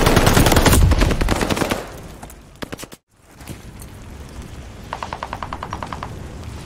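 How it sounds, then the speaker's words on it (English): Rapid automatic gunfire bursts at a contested hard point in an online shooter game, loud bursts in the first two seconds, a brief silence, then quieter spaced bursts of shots toward the end. "Hard point is under fire."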